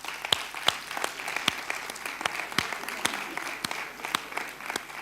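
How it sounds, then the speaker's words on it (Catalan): A crowd of students in a classroom or hall claps together, a steady round of applause with sharp individual claps standing out, sustained for several seconds without talk. "un aplaudiment per vosaltres mateixos"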